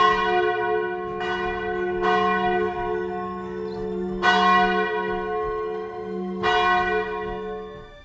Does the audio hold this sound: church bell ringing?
yes